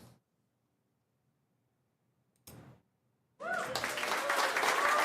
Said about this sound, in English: Smattering of applause.